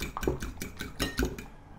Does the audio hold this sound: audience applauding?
no